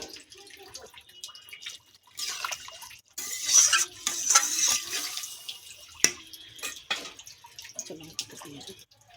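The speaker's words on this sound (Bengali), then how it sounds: "জল দেব একটু জল দেব" Water is poured into a pan of cooking potato and soybean kofta curry, a few seconds of running, splashing flow at close range, alone without talk.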